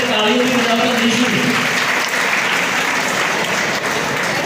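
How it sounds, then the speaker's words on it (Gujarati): Sustained, dense applause from an audience honouring students at a Kheda district police get-together and student felicitation ceremony. The clapping holds at an even, loud level throughout. "દરેક બાળકોને આપણે તાળીઓથી વધારતા રહીશું."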